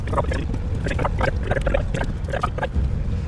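Car engine running on moonshine and not feeling great, a close, low, lumpy rumble with uneven chugging pulses about every quarter second.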